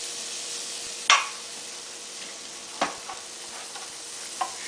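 Skewers of marinated pork satay sizzle steadily on a grill, broken by a few sharp clicks and scrapes as the skewers are brushed and turned. There is no talking.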